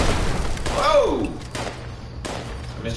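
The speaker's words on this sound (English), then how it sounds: "Did somebody shoot rockets at me?" Rocket blasts in Fallout 76 during a community event, a heavy, rumbling boom with a sweeping whoosh near the start, then lower thuds and background game noise. Some speech-like sound is mixed in.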